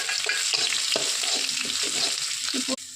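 Ginger garlic paste and green chilies sautéing in hot oil, a bright steady sizzle with short scraping stirs repeating through it, close and uninterrupted until a sudden drop near the end.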